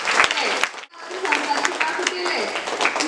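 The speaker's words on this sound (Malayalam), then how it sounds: "ആ കുട്ടിക്ക് ഒരു നല്ല കൈയടി കൊടുത്തു" Audience applause for a child at a school laurel ceremony, a burst of clapping from a gathered group that breaks off briefly and then resumes, with voices talking over it.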